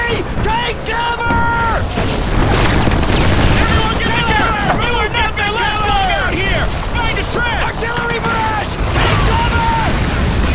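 An artillery barrage in the World War II video game Call of Duty 2, with heavy explosions and gunfire rumbling continuously and loudly, mixed with shouting voices and whistling shells overhead.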